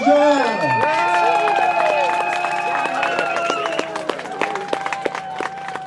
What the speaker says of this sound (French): j'aimerais ça qu'on lui réserve une bonne main d'applaudissement à Sœur Angèle